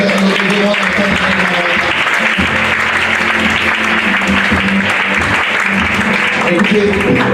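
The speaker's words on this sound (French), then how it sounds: "Est-ce qu'on peut acclamer pour mon frère?" An audience at an opening evening service applauds and cheers for a brother, dense continuous clapping with whoops and voices mixed in, loud and sustained throughout.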